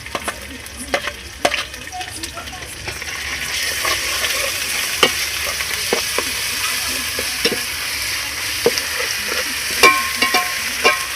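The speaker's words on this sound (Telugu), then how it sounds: "పచ్చి వాసన పోయే వరకు దీన్ని వేగించాలి." Onions and ginger paste fry steadily in a pan, a continuous hiss of sizzling broken by scattered sharp pops and stirring clicks, close and fairly loud with no talking.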